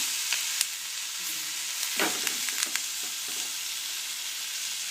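Capsicum and onion sautéing in a pan, with a continuous sizzle broken by several sharp scraping stirs, close and without speech.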